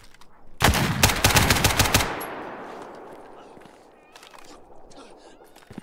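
Rapid burst of close, loud automatic gunfire in the shooter game Stalker GAMMA, a dense string of shots lasting over a second, followed by a fading echoing tail and quiet ambient rustle.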